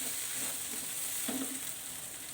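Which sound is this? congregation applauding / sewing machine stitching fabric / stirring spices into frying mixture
stirring spices into frying mixture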